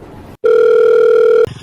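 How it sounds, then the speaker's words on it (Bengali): A phone's incoming-call ring: one loud, sustained electronic tone lasting about a second, clear and close after a brief silence, with faint room sound before and after. "দেখি তো কেঠায় ফোন দিল, অসময়ে ফোন দিল কেঠা"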